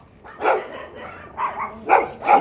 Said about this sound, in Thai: ไม่ต้องเห่าเขาไม่ต้องเห่าเขา